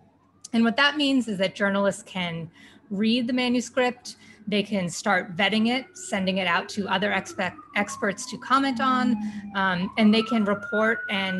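Emergency vehicle sirens pass outside, a faint rising and falling wail under a person speaking steadily and close.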